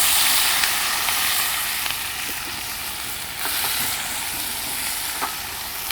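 Mutton pieces fry in hot oil with curry leaves and green chilies, giving a loud, steady, close-up hissing sizzle with faint occasional stirring clicks throughout and no talk.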